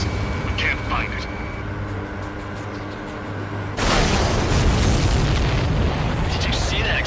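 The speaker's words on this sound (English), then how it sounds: "Did you see that explosion? Looks like that's one of them down." An explosion of a supply ship shot down in the air-combat game Ace Combat 7 hits as a sudden loud, wide blast partway through, then becomes a sustained roaring rumble over steady engine drone.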